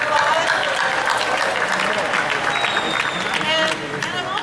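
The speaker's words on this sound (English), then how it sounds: "So let's give us all a round of applause." A Comic Con Hall H panel audience for Fear The Walking Dead breaks into a dense, sustained round of applause with cheering, loud and steady before easing slightly at the end.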